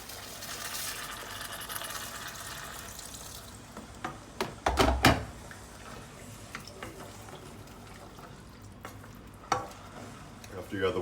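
Water is poured into a big saucepan of cooked vegetables, setting off a hissing sizzle with occasional sharp clinks of pan and utensil, at moderate loudness and without speech.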